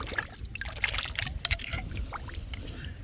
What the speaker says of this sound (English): I'm gonna rinse it off in some water.